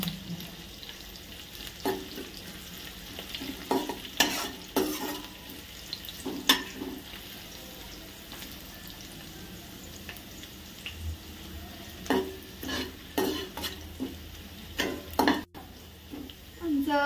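Ginger and garlic sautéing in a pan for chili chicken, a steady low sizzle broken by repeated scraping stirs that come in clusters, close and moderately loud.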